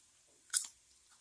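A single crisp bite into a crunchy double deep-fried potato fry sounds as one short, close crunch in near silence, with no talking.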